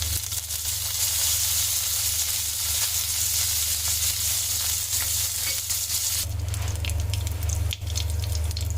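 Curry leaves splutter in a spoonful of hot oil as tempering for mor kuzhambu, a dense, close crackling sizzle that grows sharper and busier in its last few seconds, with no voices.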